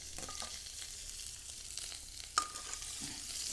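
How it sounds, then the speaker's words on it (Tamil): Onion and green chilies fry in a pan on a wood stove, producing a quiet, steady sizzle with light stirring scrapes and a single sharp clink late on. "இப்போ வந்து வெங்காயமும் மிளகாயும் வதங்கிட்டுது."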